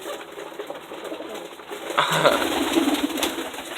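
Pigeons coo softly in a quiet indoor space, with low murmuring calls that grow a bit fuller midway and faint rustling behind them.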